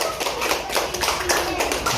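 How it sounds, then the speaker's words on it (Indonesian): Students in a classroom clap their hands for a classmate, a brief burst of close, dense applause with a few sharper individual claps mixed in. "Tepuk tangan untuk Dipa dulu ya."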